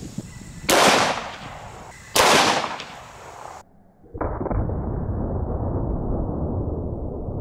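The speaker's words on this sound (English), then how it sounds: "let's shoot him one more time with the 10mm, but this time we're gonna use an RIP round." A 10mm pistol firing an RIP round, two loud sharp cracks a second or so apart, each with a ringing decay, then a sudden drop and a steady muffled hiss.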